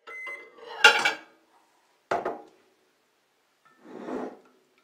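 Three separate bursts of scraping and clinking, like a utensil stirring melted soap against the sides of a container, with quiet pauses between them.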